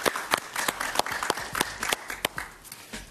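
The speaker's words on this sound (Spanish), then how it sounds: "Un aplauso para él" A small studio audience on a Spanish-language talk show claps for a Venezuelan writer and journalist, with distinct individual claps at a moderate distance, fairly quiet, and little talk.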